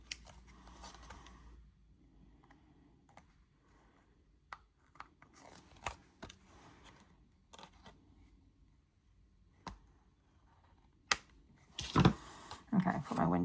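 Card stock for a handmade candle shaker card is trimmed with scissors, producing quiet, scattered snips and paper rustles close by, with a louder burst of handling noise near the end.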